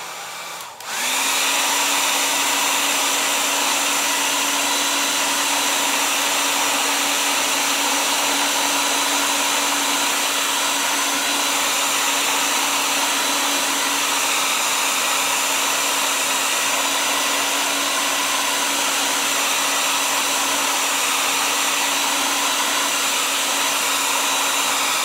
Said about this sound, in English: Don't put your hair dryer right down on it. Hold it up a couple inches